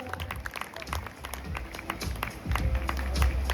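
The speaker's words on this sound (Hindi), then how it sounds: "बस जोरदार तालियां क्लैपिंग।" Guests applaud at an anniversary celebration, a dense patter of clapping from a gathered crowd with low background rumble, growing louder toward the end.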